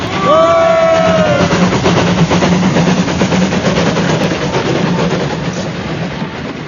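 A goods train rumbles past close by with loud, continuous clattering of wagons on the rails, a brief horn-like tone early on, and the roar slowly fading toward the end.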